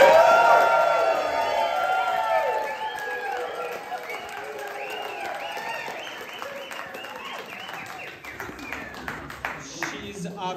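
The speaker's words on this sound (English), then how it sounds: "One more round of applause for Jane." Audience applause and cheering at a birthday party held at a mushroom farm, loud dense clapping that fades gradually over several seconds while a voice speaks over it.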